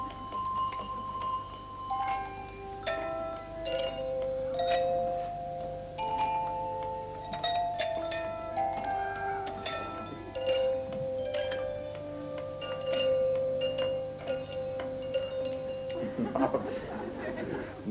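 Handbells ringing the tune Scotland the Brave in a televised 1979 performance by a bell-ringing team, a steady run of clear pitched chimes that overlap and ring on, with faint background murmur.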